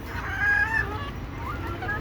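Desi chickens cluck in a backyard setting, their short, faint calls rising now and then over a steady low background hum, with no talking.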